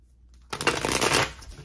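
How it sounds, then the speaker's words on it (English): A deck of tarot cards is riffled and shuffled close up, a sudden dense papery flutter that starts after a brief quiet moment and continues steadily. "I'm going to shuffle the cards out first"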